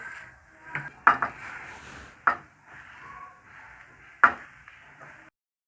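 Gond ladoo ingredients with dry fruits being mixed together in a bowl, giving a few sharp clinks and knocks of utensil against the bowl over soft rustling, close and moderately quiet.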